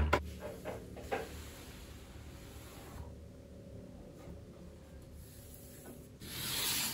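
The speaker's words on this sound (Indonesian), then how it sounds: "bisa kita amplas atau cutter secara langsung" Sandpaper rubs against a model's leading edge in steady back-and-forth strokes, close and dry, with a pause in the middle before the scraping resumes.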